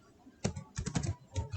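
Keys clatter on a computer keyboard as code is typed, a quick run of soft close clicks in short bursts.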